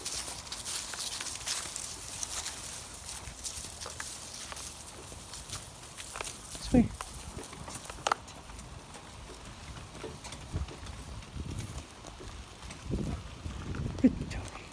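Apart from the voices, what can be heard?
donkey hooves walking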